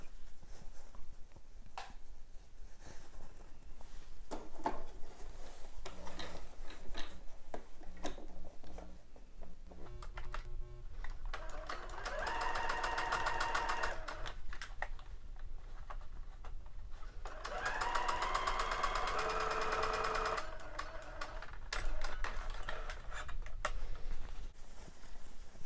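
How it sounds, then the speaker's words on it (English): A sewing machine stitching a half-inch bodice seam runs in two steady, whirring bursts at close range, separated by quieter handling of fabric and a few small clicks. "I'm going to put those together. And I'll sew that seam at 1/2 inch."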